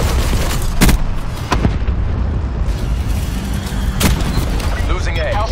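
Missile strike explosions from a Hellstorm launcher in Black Ops 4 multiplayer, heavy booms thudding over a constant dense roar of battle, with a couple of sharp blasts standing out and a voice briefly audible.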